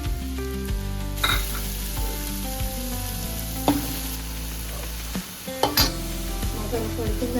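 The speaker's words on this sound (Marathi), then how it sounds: "मसाला परतून झालेला आहे" Black masala spice paste sizzles as it sautés in a pan for a drumstick dish, with a few stirring scrapes under steady background music.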